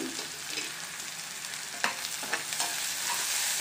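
Broccoli fries in a pan with turmeric and salt, giving a steady close sizzle with a few scraping stirs, and no voices.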